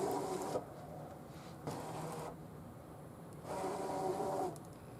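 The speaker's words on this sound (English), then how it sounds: "put your vinyl on the mat and load it into your machine" A vinyl cutting machine draws vinyl on its mat inside with a near, steady motor whir that rises in three longer bursts separated by quieter stretches, alone in the room.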